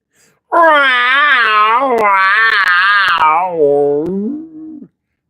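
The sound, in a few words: female cat yowling in pain during mating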